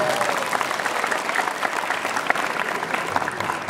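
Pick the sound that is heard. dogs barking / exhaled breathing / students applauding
students applauding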